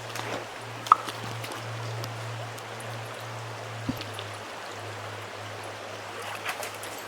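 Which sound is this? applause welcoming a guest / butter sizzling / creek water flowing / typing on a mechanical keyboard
creek water flowing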